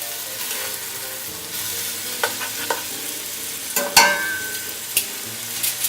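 Chicken fries in a pan for a curry, a continuous soft sizzle with a few clattering bumps and scrapes as the pieces are turned over, heard up close with no talking.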